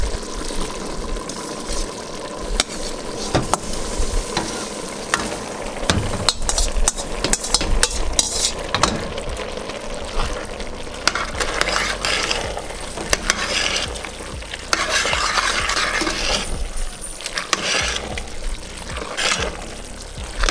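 Macaroni noodles stirred into Korean beef goulash frying in a pan, giving a loud, continuous sizzle with steady scraping and stirring throughout, and no talking.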